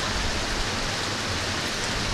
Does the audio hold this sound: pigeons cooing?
no